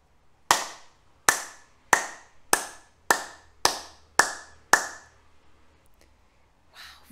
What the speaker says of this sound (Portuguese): E essa é a palma estrela.